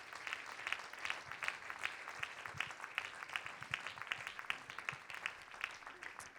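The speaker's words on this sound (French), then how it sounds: "Peut-être on peut applaudir pour toutes ces personnes." A francophone conference audience gives moderate applause for translators of literature; individual claps are distinct and fairly rapid, steady throughout, with no talking.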